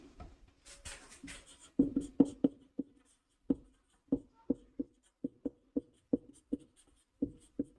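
Pen strokes while writing out a maths definition in a lesson on diagonal matrices: a quick, steady series of crisp taps and short scratches, close and clear, with no voices.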